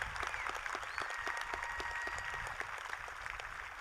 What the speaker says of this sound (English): Let's give a round of applause to our students, our parents, and our faculty